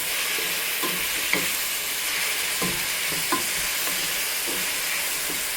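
Onions fry for chicken biryani masala in a pan, a steady close sizzle broken by repeated scraping stirs of a spoon at an even pace.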